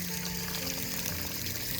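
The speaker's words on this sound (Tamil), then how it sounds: "நான் இங்கே தண்ணி ஊற்றின்னு இருக்கேன்" Water being poured onto garden plants, a steady, close rushing splash that runs without a break for the short moment.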